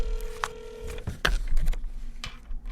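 Telephone dialing tones ring out as a quick run of steady beeps, then a few shorter electronic blips follow, close and clear before a call connects.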